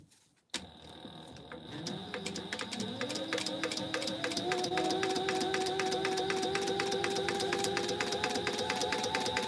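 A home sewing machine runs a steady top stitch across a Noodlehead Firefly tote bag at a longer stitch length, a fast even clatter of needle strokes with a whirring motor starting abruptly and continuing unbroken.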